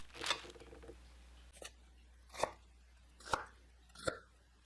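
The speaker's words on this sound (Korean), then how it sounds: "배추잎을 냄비 깊이 사이즈로 자릅니다" Four crisp knife chops cut napa cabbage leaves on a cutting board, spaced about a second apart, close and clear in a quiet room.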